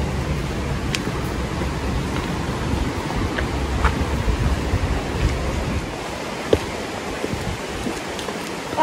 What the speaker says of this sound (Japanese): 川の音が近づいてきた。